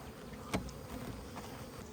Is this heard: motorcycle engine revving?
no